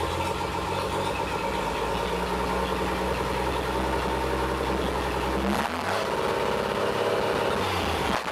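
A barn-find Chevrolet Apache truck engine idles continuously and loudly, a steady mechanical drone with a rhythmic lumpy pulse and a brief dip and change in tone partway through.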